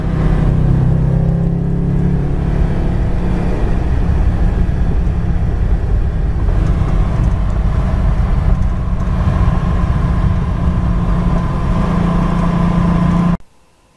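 A 2007 Chipfoose Mustang driving, its engine a steady, loud, close drone with road rumble that holds for the whole stretch and cuts off abruptly at the end, with no talking.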